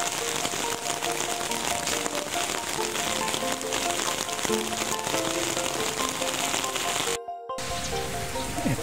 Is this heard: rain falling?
yes